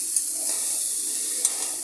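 Vegetable bhaji fries in a pan with a steady broad sizzle, while a spatula stirs it and scrapes the pan twice with short, sharp accents. No one speaks.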